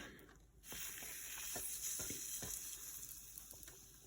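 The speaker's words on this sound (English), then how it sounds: "I'm cooking them at 325, about 4 to 5 minutes on each side." French toast frying in a pan at around 325 degrees, a steady close sizzle and hiss with a few soft clicks and taps of a utensil, no talking.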